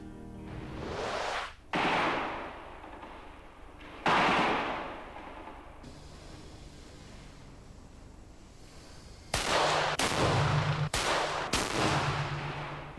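An old musket rifle fires at the Montjuïc Olympic shooting range, and several loud, sharp reports crack out over a rumbling background. The shots come in irregular succession, a few of them close together near the end.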